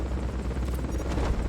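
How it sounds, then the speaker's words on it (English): A helicopter in Metal Gear Solid: Peace Walker produces a loud, continuous rotor rumble with a low throbbing drone, close by and steady throughout, with no speech over it. "Oh, the helicopter's right there."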